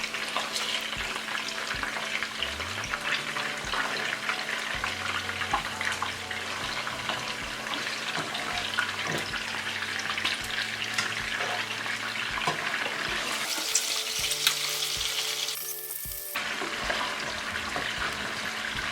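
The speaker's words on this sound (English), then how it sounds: "now I'm gonna flip my burger to the other side." A bacon cheeseburger patty sizzles in a pan after being flipped, a steady close crackle that runs the whole time under a low hum, with a brief louder burst of frying toward the end.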